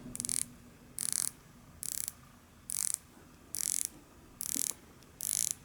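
An Oris Aquis dive watch bezel is turned in seven evenly spaced bursts of fine ratcheting clicks, each about half a second long, close and quiet.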